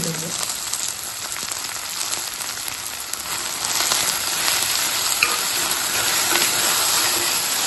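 Steady, loud sizzling of okra sautéing with onions in a hot pan, a dense continuous frying hiss with faint scraping and stirring, close up and unbroken throughout, with no talking.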